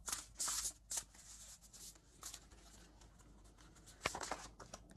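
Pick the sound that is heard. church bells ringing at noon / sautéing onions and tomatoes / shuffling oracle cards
shuffling oracle cards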